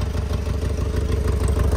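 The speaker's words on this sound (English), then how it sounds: "I love this Harley Davison. Hear it." A Harley-Davidson motorcycle engine idles loud and close, its low uneven lumpy firing pulsing steadily with mechanical clatter on top, no voices over it.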